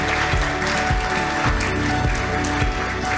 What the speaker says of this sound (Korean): 모두를 위해서 여러분 큰 박수 한번 부탁드리겠습니다